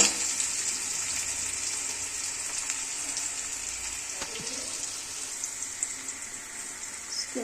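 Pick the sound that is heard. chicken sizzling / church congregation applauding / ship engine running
chicken sizzling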